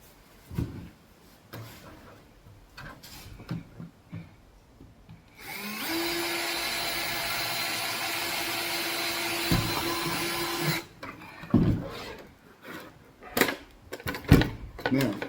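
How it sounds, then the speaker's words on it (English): A power drill boring bolt holes runs in one sustained whine of about five seconds, with scattered handling knocks and clatter before and after it. "Drill those holes, put the bolts on"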